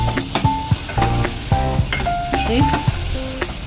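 Onions frying in oil with salt for misal, a close sizzle under frequent metallic scrapes and clinks of a spatula stirring in the pan.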